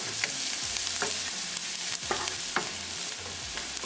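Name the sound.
onion, ginger and green chili frying and being stirred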